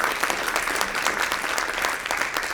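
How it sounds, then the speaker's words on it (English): Audience at a Year 10 school music concert clapping steadily in a dense, sustained round of applause that fills the hall without pause. "big round of applause for Ollie."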